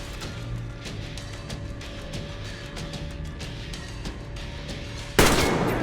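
Enemy gunfire in the shooter Yamantau, a series of sharp shots spaced through a low ambient hum, capped by a sudden loud, close blast near the end; no talk.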